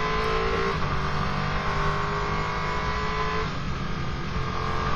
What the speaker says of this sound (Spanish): Es un motor V8 de 5 litros, 450 caballos